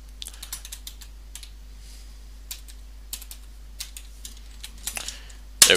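A computer keyboard clacks as a passphrase is typed, a string of quick, light, close keystrokes in an uneven rhythm that ends in one sharper key press.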